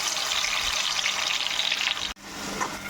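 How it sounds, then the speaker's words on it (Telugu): Onion paste sizzles steadily in hot oil in a pan, a close, even hiss that breaks off briefly near the end and then resumes. "సో ఇప్పుడు మనం ప్యాన్లో ఈ పేస్ట్ వేసుకుందాం"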